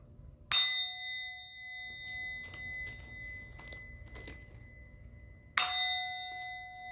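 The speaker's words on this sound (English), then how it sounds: "I'm going to ring the bell." Two clear ringing bell strikes, spaced about five seconds apart, each with a bright sharp onset and a long shimmering decay, separated by quiet with faint small rustles.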